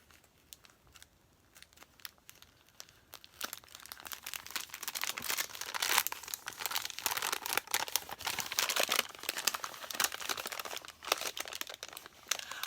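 A plastic bag on an advent calendar is worked open, quiet at first, then louder crinkling and crumpling with sharp tearing bursts, close up with no talk.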